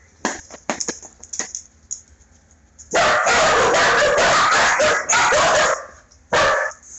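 A Red Heeler dog barks in a few sharp, scattered yips, then breaks into a long run of loud, rapid, close barking that stops briefly and returns.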